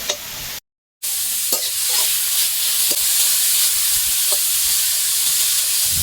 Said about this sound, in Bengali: এরপর উল্টে পাল্টে 4-5 মিনিট ভেজে নিলেই সর্ষে শাক একবারে তৈরি।